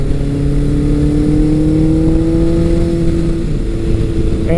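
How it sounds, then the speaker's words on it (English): Kawasaki ZRX1200R and Suzuki GS1100 motorcycles, the Suzuki an old two-valve-per-cylinder eight-valve engine, revving together: a steady, loud engine drone with tones that rise slowly and then dip, close and continuous. "both bikes are revving"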